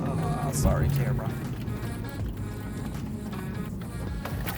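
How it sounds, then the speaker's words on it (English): Camera gear rattling and clunking inside a moving Subaru WRX STI S209, a dense mechanical clatter over low road and engine rumble with a voice talking. "Yep, all that noise is camera gear."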